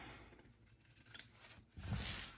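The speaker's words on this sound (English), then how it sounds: "the next step is you are going to trim your corners" Scissors trim the fabric corners of a sewn crossbody bag, giving a couple of crisp, close snips with a short pause between them in quiet surroundings.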